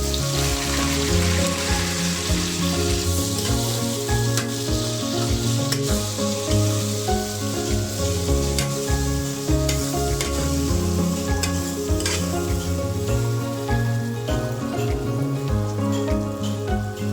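Chopped onions sizzle in leftover oil from a roast. The frying is a loud, constant crackle and hiss close up, with occasional stirring, while music plays underneath and no one speaks.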